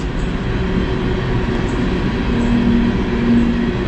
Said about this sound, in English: Another train. Oh, that one's got tanker cars.